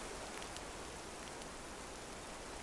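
Rain falls steadily in the survival video game This Land Is My Land, a faint, even hiss of drops that continues unbroken with no voices.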